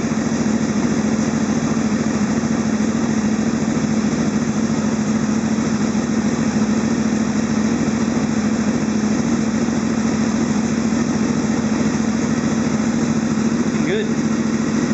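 A Honda VFR800 motorcycle engine idles steadily after a new Shorai LFX lithium battery is fitted, a constant low rumble running unbroken throughout at moderate loudness, with no talk over it.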